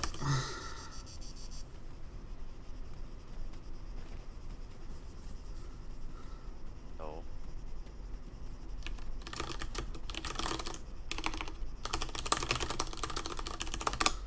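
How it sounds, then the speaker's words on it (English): Computer keyboard typing during an online battle royale game, quiet and sparse at first, then bursts of loud, close clicking toward the end over a faint background hiss. "Hope everyone can see me typing."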